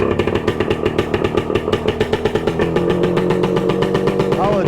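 A 1966 Suzuki Bearcat motorcycle engine fires up and runs with a steady, rapid putter of evenly spaced pulses, loud and close, settling into a continuous idle near the end.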